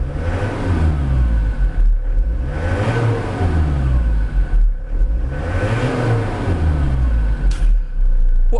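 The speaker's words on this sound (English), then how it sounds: "give her a couple of revs for you." A 2005 Ford Transit 350 long-wheelbase diesel van engine is revved repeatedly from idle, the note rising and falling in about three distinct surges, loud and close, with a deep rumbling drone between revs.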